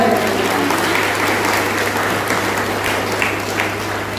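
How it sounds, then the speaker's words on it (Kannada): Loud, steady audience applause fills a prize-distribution ceremony for a Dasara doll-arranging competition, many hands clapping densely and continuously from start to finish with no speech over it. "ಅದು ಯಶಸ್ವಿಯಾಗಲು ಕಾರಣೀಭೂತರಾದ ಅತಿವರಿಗೆ ಒಂದು ದೊಡ್ಡ ಚಪ್ಪಾಳೆ."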